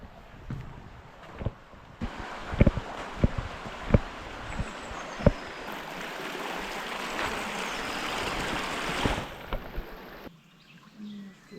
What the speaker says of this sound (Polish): słychać strumyk, który sobie płynie zwolna